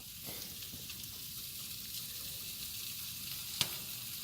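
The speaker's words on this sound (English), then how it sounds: "you hear the popping and the sizzling" Steady crackling sizzle of fat drippings falling onto a hot infrared grill at about 350 degrees, with soft pops scattered throughout and one sharper snap near the end.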